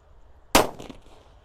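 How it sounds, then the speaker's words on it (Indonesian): A sunflower firecracker goes off in a single sharp, loud bang at close range, with a short crackling tail fading over the next half second against quiet background. "Lanjut ini ada mercon sunflower guys. Kita nyalakan, ini juga banter."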